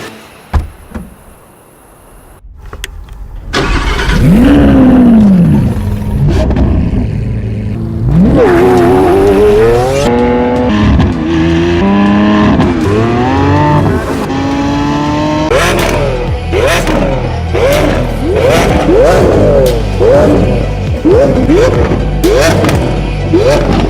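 A Lamborghini Aventador S in a Need for Speed racing game revs loudly and accelerates, its V12-style engine climbing and dropping through repeated gear shifts, loud and continuous with no talking.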